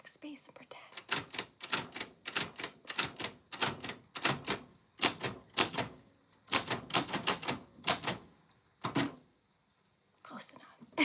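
Rapid bursts of keyboard typing with clustered key clicks and short pauses between runs, including repeated backspace taps, close and fairly loud, with occasional faint background voice.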